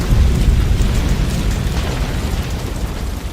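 Fire ships explode in the Assassin's Creed Rogue naval battle, a loud, rumbling blast that starts heavy and fades slowly into a long, crackling roar.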